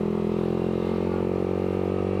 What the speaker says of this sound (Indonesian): jadi ini gue lagi test ride R15